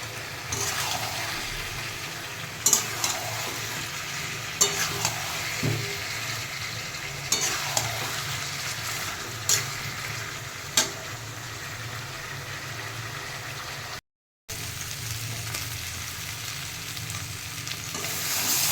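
Mutton sautéed in a pan for Bengali kasha gives a constant dense sizzle, with an occasional spatula scrape or clink every couple of seconds, close and steady, one brief dropout near the end, and no one speaking.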